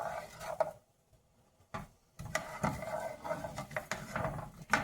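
Onions stirred in a pan for a breakfast dish, with a utensil scraping and clinking against the pan in short irregular strokes and a brief quiet gap in between.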